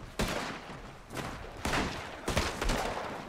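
Bursts of gunfire in Red Dead Redemption Online, with four loud separate shot volleys about a second apart, each cracking sharply and rolling off, with no talk over them.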